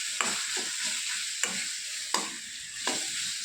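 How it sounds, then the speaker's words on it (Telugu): Mango and red chilli pickle stirred in a pan over a low flame, a steady soft sizzle broken by four sharp spoon scrapes against the pan. "మంటను సిమ్లో పెట్టి ఒక 2 నిమిషాలు ఈ మామిడికాయ పచ్చడిని ఈ విధంగా కలుపుకుంటూ"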